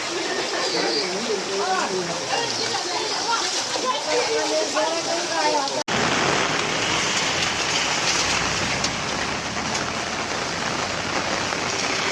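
Heavy downpour during flooding in a Gujarat village, a dense steady hiss of rain on surfaces and water throughout; voices talk over the first half before the rain continues alone, loud and close.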